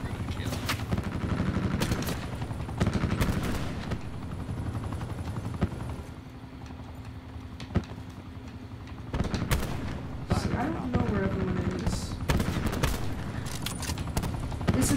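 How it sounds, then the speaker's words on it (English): An attack helicopter fires in the multiplayer video game Call of Duty Black Ops 4, with rapid bursts of gunfire and explosive blasts over a rotor drone, loud and repeated with brief lulls. "Attack helicopter is stealing all my kills."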